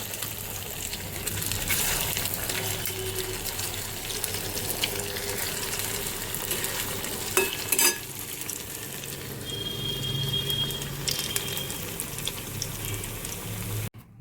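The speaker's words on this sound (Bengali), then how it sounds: "আবার যে কটা আছে সে কটা ভেজে নেব।" Homemade evening snacks deep-frying in a pan of hot oil, giving a steady, close bubbling sizzle throughout, with a brief metallic clink midway and a faint higher whine later.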